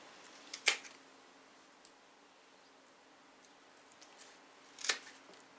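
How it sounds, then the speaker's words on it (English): A blade snipping into the rhizome of a Zygopetalum orchid affected by fusarium wilt: two sharp close cuts about four seconds apart with a faint tick between, in an otherwise quiet room. "I will cut in the rhizome again."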